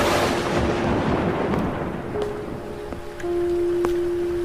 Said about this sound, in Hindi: बारिश अब ज्यादा बढ़ गई थी और बिजली भी बहुत कड़क रही थी।